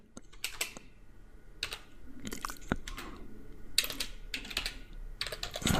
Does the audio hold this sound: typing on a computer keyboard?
yes